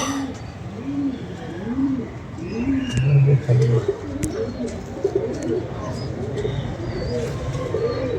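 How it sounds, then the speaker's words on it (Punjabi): Teddy pigeons cooing in repeated soft, low, rolling phrases, close by, with a voice talking briefly in the background. "ਇਹ ਟੈਡੀ ਕਬੂਤਰ ਹੈ ਜੀ"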